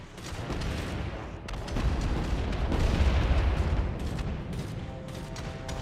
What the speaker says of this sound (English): you see there Fire Out Will, he's shooting at his own rig, so you have to make sure you watch that.